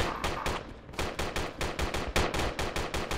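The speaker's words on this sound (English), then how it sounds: "I'm getting gunfire here." Rapid bursts of video game gunfire crackle in quick succession, sharp and fairly loud, with a brief lull near the start before a steady rattling run.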